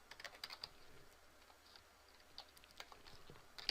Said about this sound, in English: Wow, can't type today.